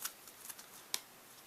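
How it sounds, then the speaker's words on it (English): Location card deck shuffled during a solo board game: a few quiet, crisp riffling bursts, with one sharper snap near the end and no talking. "location deck has to be reshuffled"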